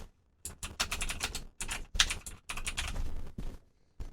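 Fast bursts of typing on a computer keyboard, close and clear, with dense clattering runs of keystrokes broken by short pauses, alone without talk.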